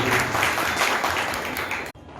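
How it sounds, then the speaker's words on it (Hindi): Loud audience applause at a grand poets' gathering (kavi sammelan) honouring Dr Rajendra Prasad's birth anniversary: dense, steady clapping that fills the room for about two seconds, then cuts off abruptly. "एक बार जोरदार ताली बजाएं"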